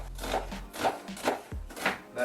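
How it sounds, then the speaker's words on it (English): A knife cutting an onion on a board, about four or five firm chops at an even pace, close and clear with a low hum behind them and no talk. "Peel up the onion, do that diagonal cut"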